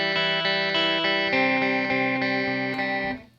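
A distorted electric guitar with the reverb effect turned off strums sustained chords with rhythmic, dry attacks and no lingering echo, fading out abruptly at the end.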